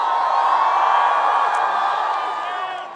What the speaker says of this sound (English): what an incredible crowd